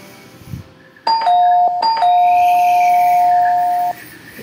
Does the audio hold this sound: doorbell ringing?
yes